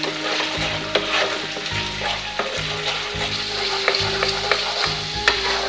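Paneer curry masala sizzles and fries in oil while a spoon stirs it in regular scraping strokes, a dense crackle under repeated clinks against the pan, with no one speaking.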